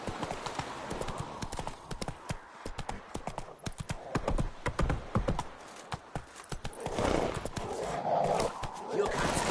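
Roach the horse galloping in a video game, rapid rhythmic hoofbeats clip-clopping close and loud, with a brief whinny-like burst near the end and intermittent talking over it.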